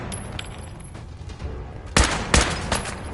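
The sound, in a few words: gunfire in the video game Fallout 4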